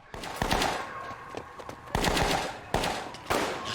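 Gunfire from The Wire, season 3, rings out in several loud bursts of repeated shots, spaced across a few seconds and heard through a television playback.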